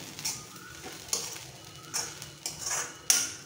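Coriander being stirred into kanda poha in a pan with the gas off, giving soft scraping and rustling strokes with a few light spoon clinks against the metal, close and quiet with no talking.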